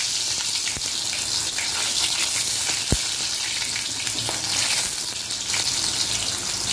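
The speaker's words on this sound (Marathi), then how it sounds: "तेल तापलेलं आहे, त्याच्यावर कांदे टाकलेले आहेत." Onions fry in hot oil in a kadhai for Hyderabadi paneer, a loud, continuous close sizzle with faint stirring clicks and one sharp knock partway through.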